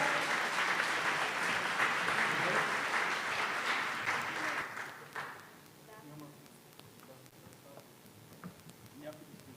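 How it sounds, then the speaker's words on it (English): Loud audience applause at a startup pitch event greets two founders coming on stage, dense clapping for about five seconds before thinning to scattered claps and room murmur. "Big applause."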